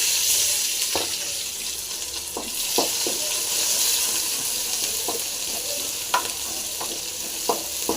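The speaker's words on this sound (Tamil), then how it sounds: "இப்போ எண்ணெய் காஞ்சிச்சிங்க ஜீரகம் போட்டுடலாம் அடுத்து இடிச்ச பூண்டு போட்டுடலாம்" Crushed garlic and cumin seeds frying in hot oil for a Tamil horse gram sundal, giving a steady close sizzle with occasional stirring clicks and scrapes throughout.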